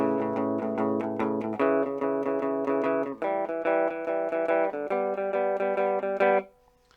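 Guitar picks a double stop arpeggio, pairs of notes ringing in a quick repeating pattern that shifts up through several positions before stopping.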